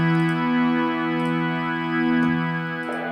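Sustained synthesizer preset from a Solaris soft synth refill, played dry with reverb switched off: a rich, steady harmonic chord with bright upper partials, holding at an even level with a slight swell and a brief change near the end, no voice.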